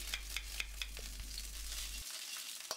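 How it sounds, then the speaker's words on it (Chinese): Aromatics stir-frying in hot oil in a wok, giving a soft, steady sizzle with a few light clinks of the utensil against the metal, close but fairly quiet, with a low hum that stops partway through. "加入料头爆香"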